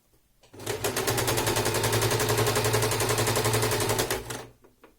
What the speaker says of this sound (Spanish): Ahora mismo yo estoy cosiendo el bajo